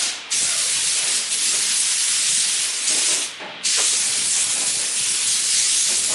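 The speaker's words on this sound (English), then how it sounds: "Now give it a quick blow down to get rid of all the dust." Compressed air blows down a car body before painting, loud continuous hissing bursts from an air nozzle with a brief pause and a short dip before resuming, no speech.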